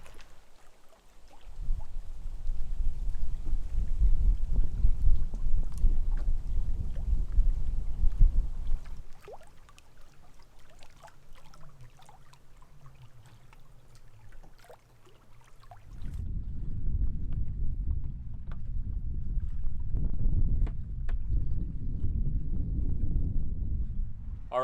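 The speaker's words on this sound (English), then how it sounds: "enjoy the nice cool breeze that's coming off of the lake" Cool breeze blowing in off a lake on an island, heard as loud gusty wind buffeting close by in two long surges with a quieter lull between.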